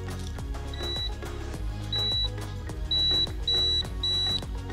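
A multimeter gives a continuity test on a car: short high electronic beeps sound repeatedly, one brief and then several longer tones, over a low steady background hum.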